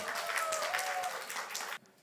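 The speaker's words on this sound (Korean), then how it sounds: "자, 박수 한번 쳐주면 냅다 뒤에 들어가겠어요" A church congregation claps at a Pentecost Sunday service, with brisk scattered applause that cuts off abruptly near the end and leaves near silence.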